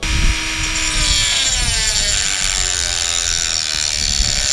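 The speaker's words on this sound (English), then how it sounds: "So right now we're gonna cut right here at the end of the lug nut." A power tool cuts through a metal lug nut bolt, a loud sustained grinding whine with rising and falling tonal sweeps, close and continuous without a break.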